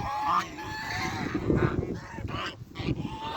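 Geese honk several times at a distance over gusty wind noise, a scattered, overlapping chorus of calls.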